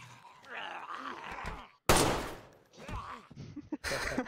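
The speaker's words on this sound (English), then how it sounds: "I've just ruined your plate by shooting you in the head." A sudden loud gunshot blast rings out in the DayZ video game, cutting sharply through groaning voices and chatter before and after.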